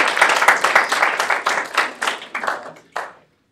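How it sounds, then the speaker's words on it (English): Small audience giving a round of applause at a student government livestream, close and loud clapping that swells briefly then thins out and stops. "if you want to give all those people a round of applause"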